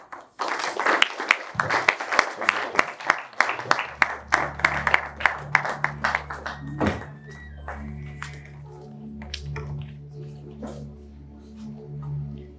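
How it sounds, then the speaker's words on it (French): An audience at a book launch for a novel claps in a burst of fairly loud applause for several seconds, fading into scattered claps while music plays underneath. "Encore une fois, nous pouvons applaudir pour M. Blaise"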